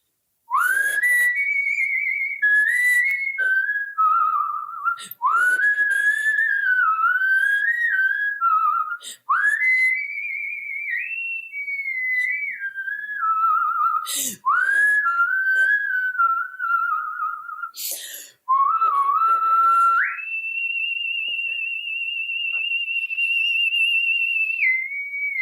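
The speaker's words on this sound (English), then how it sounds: "If there's one thing that I'm very arrogant about, it's my whistling." A woman whistles a melody solo, clear and close, with bright sustained and gliding tones in phrases separated by short breaths, ending on a long held note.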